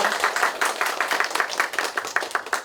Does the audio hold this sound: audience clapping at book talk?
yes